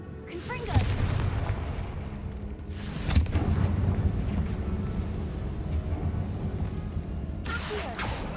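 Confringo fire spell cast in the Hogwarts Legacy game, giving booming blasts at about one and three seconds over a steady rumbling bed of game noise, with a bright crackle near the end.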